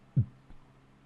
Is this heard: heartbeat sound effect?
yes